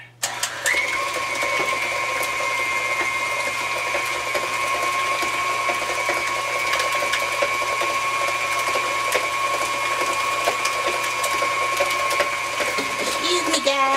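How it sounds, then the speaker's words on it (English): An electric mixer beats butter and cream cheese for a pound cake batter, its motor holding a loud, steady mechanical whir with a faint ratcheting rattle throughout. "got my mixer."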